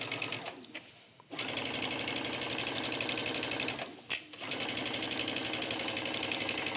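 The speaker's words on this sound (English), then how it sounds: "I'm stitching the lining to the seam allowance" A sewing machine runs steadily, understitching a trench coat's lining to the seam allowance, its close, loud motor whir broken by two brief pauses.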